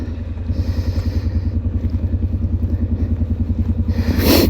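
A Honda Rincon 650 ATV engine runs at a steady, loud idle-like throb with a fast regular pulse, rising slightly near the end as a burst of higher noise cuts in, outdoors in snow.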